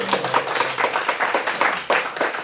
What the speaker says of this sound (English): I'd like everybody to give Amy a big round of applause.